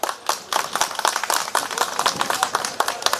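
A crowd of striking Ola and Uber drivers in Mumbai claps loudly and close by, a rapid, irregular patter of many hands that keeps up without pause and with no talking over it.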